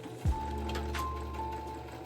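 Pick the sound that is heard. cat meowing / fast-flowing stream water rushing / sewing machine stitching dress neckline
sewing machine stitching dress neckline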